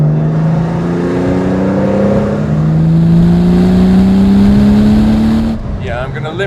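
A classic car with a warmed-up gearbox pulls hard at full throttle, the engine note climbing steadily in pitch, loud and close for over five seconds before the power drops off abruptly.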